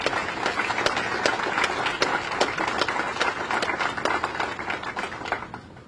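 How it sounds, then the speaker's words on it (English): Audience applauding at an outdoor groundbreaking ceremony for the West Side Market renovation, a dense, sustained crowd of hands clapping with crisp individual claps throughout, tapering slightly at the end. "So please give her a round of applause."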